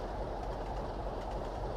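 A Class 47 diesel hauling a Freightliner freight train in the Trainz simulator on the East Coast Main Line near Edinburgh, a steady low rumble of running rolling stock with no talking.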